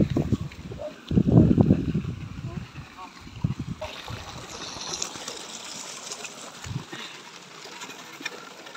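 River water flowing and splashing in a rural provincial setting, a steady rushing wash with a few nearer splashes, while people talk nearby.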